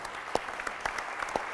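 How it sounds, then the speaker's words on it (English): An audience at a shipping and law round table clapping for the panelists, steady in a dense wash of applause, with a few sharper individual claps standing out. "can we have a big round of applause for our panelists"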